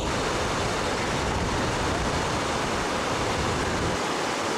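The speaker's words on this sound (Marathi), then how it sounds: "इकडनं अजूनही थोडं फोर्समध्ये निघतंय पाणी टबमधलं." Water gushes forcefully from a dam outlet, a dense, continuous roar of rushing water filling the air evenly and loudly throughout, with no pauses or other sounds standing out.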